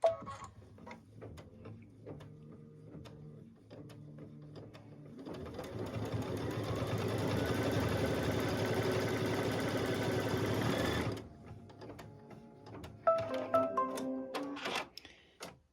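A sewing machine runs steadily for several seconds stitching a tack-down line across quilt fabric, framed by quieter handling noises and brief pauses before and after the sustained mechanical whir.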